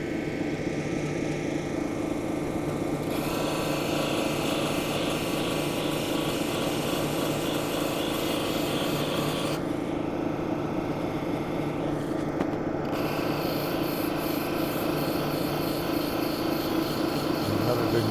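A stromatolite cabochon is ground against coarse abrasive grit in a continuous, rough, raspy hiss that holds steady throughout, with brief shifts in tone, close up and without speech.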